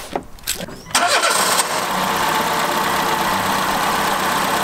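A Peugeot 207 fitted with an induction kit cranks briefly with a few stuttering bursts, then catches and settles into a loud, steady idle close by.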